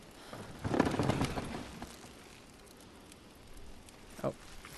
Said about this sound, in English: Man, the thunder,